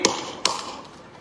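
Two sharp hand claps about half a second apart, close and dry, demonstrating clapping during a public speech, with no voices over them.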